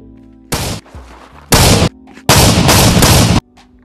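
Semi-automatic M10 rifle gunfire in the VR shooter game Contractors, with a single loud shot, a second blast, then a longer burst of rapid shots close up, with no talking.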